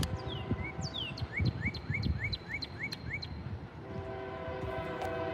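A northbound freight or passenger train runs past at speed through Durant, with a steady rumble and rolling clatter throughout and repeated short falling whistle-like chirps from signals or birds riding over the top.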